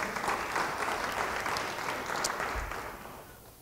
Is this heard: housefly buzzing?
no